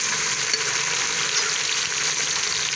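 Chopped tomato sizzling in hot oil with green chillies, a steady bright hiss of frying that stays even and close from start to finish.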